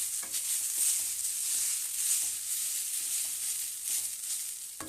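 Cardamom pods and spices frying in a pan until browned while making semiya kesari, a soft, continuous sizzle with light stirring scrapes and faint crackles, close and fairly quiet.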